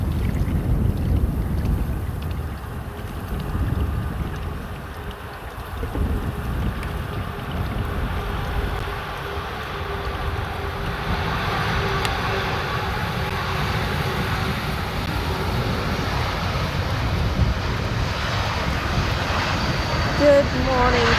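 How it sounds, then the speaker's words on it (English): An Air France Airbus A380 arrives at Amsterdam Schiphol, a broad distant jet roar that swells gradually over about twenty seconds, heavily mixed with outdoor wind buffeting on the microphone. "Air France coming in from the Eiffel Tower city, Paris, to Amsterdam."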